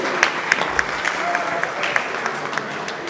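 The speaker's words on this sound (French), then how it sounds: "Je ne sais pas s'il est utile de vous demander à applaudir." Audience at a ceremony in the DRC honoring a bâtonnier's 55-year legal career claps steadily in a dense, fairly close patter, with a few sharper individual claps standing out, lasting about three seconds.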